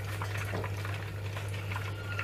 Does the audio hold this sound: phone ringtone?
no